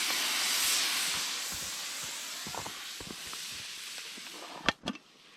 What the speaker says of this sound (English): This is my first time steaming bread in a pressure cooker